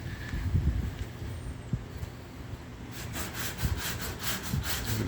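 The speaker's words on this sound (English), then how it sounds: "this is the new sanding technique we like to call the fish" Hand sanding on a 1957 Ford Thunderbird car body, rough scraping strokes at first, then a quicker run of regular back-and-forth rubbing passes, fairly close.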